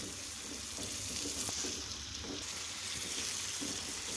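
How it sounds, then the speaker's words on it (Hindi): Spices frying in oil for masala egg fry, a constant hissing sizzle with faint stirring scrapes beneath, steady and close, no one speaking. "मसाले को हम अच्छी तरह से मिक्स कर लेंगे।"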